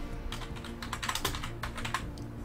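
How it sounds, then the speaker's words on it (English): Keys clatter on a computer keyboard in a steady burst of close, crisp typing, with small pauses between clusters of keystrokes. "I'm going to type Fortnite"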